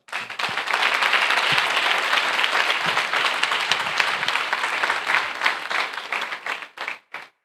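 A church congregation breaks into dense, sustained applause. The clapping stays steady for several seconds, then thins to a few scattered claps before stopping. It sounds like a large crowd in a reverberant room, with no one speaking over it.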